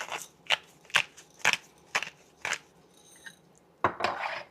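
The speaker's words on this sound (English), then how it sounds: "Grind in some pepper here. Stir it up." Sharp metallic scrapes of a spoon stirring chili seasoned with pepper and salt in a pot, about eight distinct strokes close by with short pauses between them.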